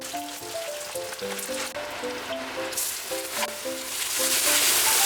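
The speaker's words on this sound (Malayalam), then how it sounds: "കടുക് പൊട്ടി വരുന്നുണ്ട്." Mustard seeds and curry leaves spluttering in hot coconut oil in a pan while cooking Kerala duck curry, a crackling sizzle that builds louder toward the end beneath background music.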